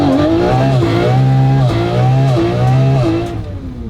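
A crash-damaged Lamborghini, warmed up, runs loud and close with repeated throttle blips, the engine note climbing and falling several times before easing off at the end.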